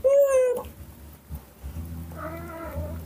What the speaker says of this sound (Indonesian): Ada kucing situ tuh.